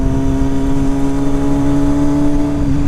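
A motorcycle engine drones steadily and loudly throughout while riding, with a strong constant tone and no talking over it.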